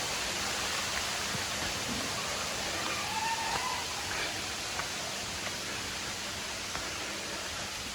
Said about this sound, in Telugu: చూసారా? స్మాల్ కటిక వాటర్ ఫాల్స్